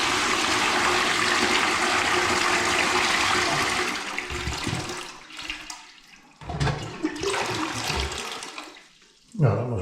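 Wall-mounted dual full and half flush toilet flushing loudly and close, a strong rush of water for about four seconds that tapers into gurgling refill, followed by a second shorter flush.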